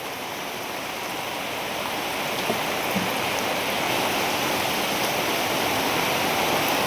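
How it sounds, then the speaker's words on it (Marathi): Heavy downpour with rainwater running and rushing, a steady dense wash of water noise that continues throughout without a break and holds at a loud, even level. "बघा कसलं पाणी वाहत आहे आता."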